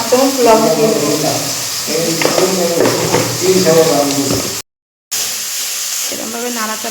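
Oil frying in a kadai while food is stirred, a steady bright sizzle and hiss running under a woman's close speech, briefly cut to silence partway through.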